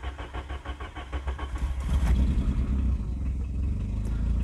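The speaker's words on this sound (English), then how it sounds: "You should not need any accelerator to start the car." A Volkswagen Golf Mk2 engine cranks with a rapid rhythmic starter chatter for about two seconds, then catches and settles into a loud, steady idle rumble close by.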